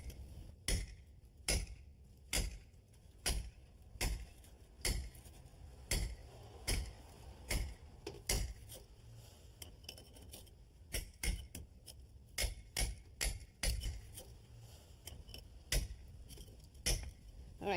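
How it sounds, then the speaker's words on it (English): Two-pound hammer striking a cold chisel to split stone along drilled holes, a steady series of sharp metallic taps, several per second with brief pauses, close and clear with no talk. "what I've got is a 2-pound hammer and a cold chisel, and hopefully it'll break right on the holes that we drilled"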